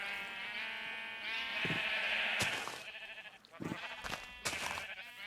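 Sheep in a video game let out several drawn-out, wavering bleats, fairly close and repeated in overlapping bursts with short pauses, over a quiet steady background.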